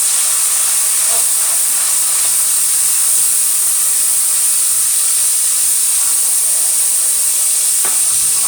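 Ginger, garlic and green chili paste is stirred into onions frying in a pot for kidney bean curry, giving a steady loud hiss and sizzle with faint stirring scrapes throughout.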